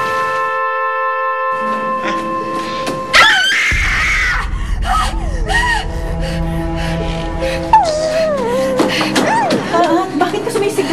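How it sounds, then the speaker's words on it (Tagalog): Person screaming in a dramatic scene, a sudden loud shriek breaking out after a held musical tone, followed by wavering cries and moans over a low music bed, with another loud scream later. "Bakit ka sumisigaw?"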